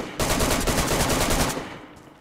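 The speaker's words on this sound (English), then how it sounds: "I shot him once" A rapid burst of gunfire in the video game DayZ, loud and continuous for over a second of fast repeated shots, then cutting off into a fading tail.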